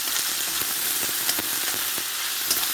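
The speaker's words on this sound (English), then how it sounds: "Cooking now, frying." King prawns and chicken sizzle loudly in a hot pan while being stir-fried for chow mein, with a constant crackle and occasional scraping clicks of stirring, close up.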